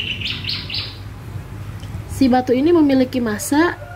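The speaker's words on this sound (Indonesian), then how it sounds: "mohon maaf ya suara burung" Small birds chirp in quick repeated high tweets early on, then a person talks loudly nearby, with the bird calls fading beneath the voice.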